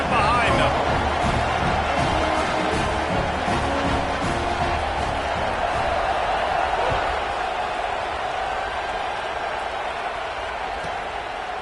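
A college football stadium crowd at Michigan versus Iowa roars before kickoff, a loud, steady hubbub of cheering and voices that fills the whole stretch with a slight easing toward the end.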